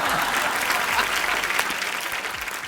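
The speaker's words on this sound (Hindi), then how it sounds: "इन फिरंगी लड़कियों के लिए जोरदार तालियां" A television comedy show's studio audience claps for a troupe of dancers, a dense, continuous round of applause from many hands filling the room.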